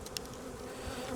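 Honey bees hum and buzz steadily over hive frames, a close, continuous drone with no voices.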